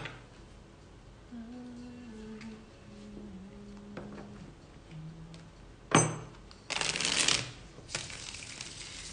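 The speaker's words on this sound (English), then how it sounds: "let me get all the cards out" Tarot cards pulled from a deck and shuffled, with a soft background tone early on, then bursts of riffling and a louder sustained shuffle near the end.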